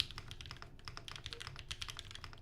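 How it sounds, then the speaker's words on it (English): Fast typing on a custom-built split ergonomic keyboard: a dense, even patter of crisp key clicks and taps, close and fairly quiet, with no voices. "I was typing much faster than I thought I would be"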